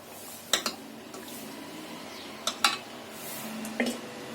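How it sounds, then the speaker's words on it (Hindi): Cooked mutton trotter pieces lifted from a pressure cooker into a pot, with a few faint metallic clinks of utensil against cookware spaced apart over quiet kitchen background. "तो एक बर्तन में हम ये पीसों को निकाल लेंगे।"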